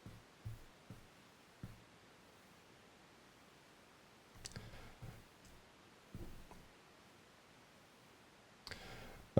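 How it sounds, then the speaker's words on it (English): Computer mouse clicking during work on a website, a few quiet, scattered clicks spaced irregularly among faint rustling handling noise, with no talking. "Looks like something's going on with my mouse. It's not clicking it right away."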